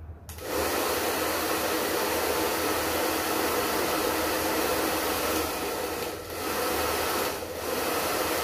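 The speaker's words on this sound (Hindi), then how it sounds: "अब मैं ये ड्रायर सेटिंग कर रही हूँ" A hair dryer blows steadily while hair is styled after a layered haircut, a loud, close whooshing roar starting abruptly and running continuously, dipping briefly twice as the airflow shifts, with no talking.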